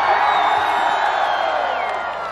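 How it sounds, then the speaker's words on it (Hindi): Audience at a comedy show during a winter feast, cheering and applauding in a loud continuous crowd roar with whoops, fading slightly toward the end. "और तालियां"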